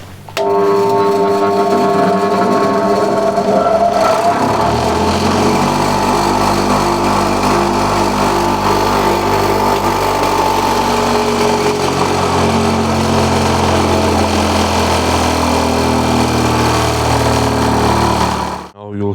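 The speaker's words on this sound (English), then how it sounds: "Now you'll hear hopefully the sound difference between the old one and this new grinder." An old bench grinder runs steadily and loudly with a droning motor hum and high whine for about eighteen seconds, then cuts off at the end.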